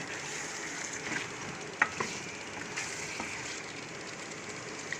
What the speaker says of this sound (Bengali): মাংস একটু লাড়া দিচ্ছে